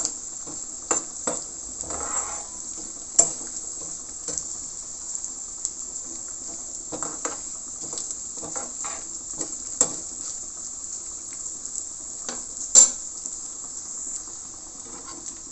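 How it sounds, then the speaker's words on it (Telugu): Chana dal, urad dal, cumin, coriander seeds, peppercorns, fenugreek and coconut frying in a pan for Udipi-style sambar, a steady close sizzle with occasional stirring scrapes and crackles. "చూశారు కదండి, పోపు కూడా వేగిపోయింది."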